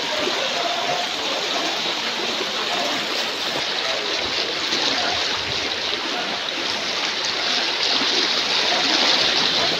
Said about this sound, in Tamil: தண்ணியோட ஃபோர்ஸ் பாருங்கள் எவ்வளோ ஸ்பீடாக போகுது.